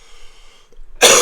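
A single sharp, loud cough bursts out at close range after a moment of quiet room tone, from a person recovering from a viral illness.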